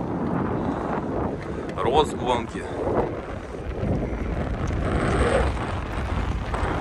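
Wind blows across the microphone in Adler's Olympic Park beside the Formula 1 track, making a steady rushing, buffeting roar under a person's speech.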